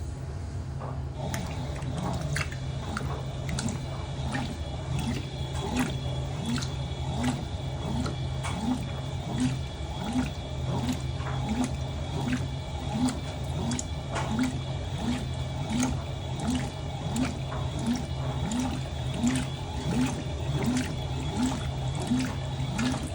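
Fisher & Paykel Intuitive washing machine filling with water and sensing its level, giving a steady hiss of running water with a soft, regular mechanical ticking from the drum throughout, near and continuous.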